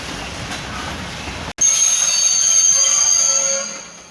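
A shunting locomotive at Rybnik station brakes to a stop, a dull rumble giving way after a sharp break to loud, sustained high-pitched wheel squeal and rail clatter that fades near the end.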